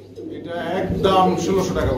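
Black Sirazi pigeons, a breeding pair, give soft low cooing at a loft sale, heard close and steady under continuous speech.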